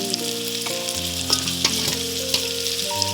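Curry leaves, onion and tomato sautéing in a pan for ghee rice and chicken sambal, a close sizzle with a few sharp stirring clicks, backed by steady tonal music and no speech.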